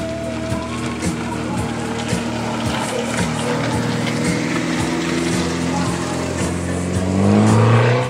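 Race cars on a track run past at a French motorsport event, a continuous loud engine drone with revving passes and a rising roar near the end, heard alone without talk.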